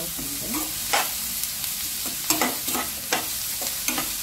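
Garlic, onions and green chillies frying in a pan with turmeric and salt, a constant sizzle broken by repeated scraping stirs of a spoon, close and clear with no talking.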